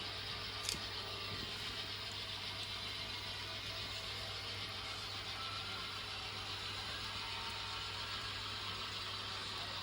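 A pair of N scale Broadway Limited SD40-2 model locomotives runs with a steady, faint electric motor drone and sound-unit engine hum, a single small click near the start, no talk.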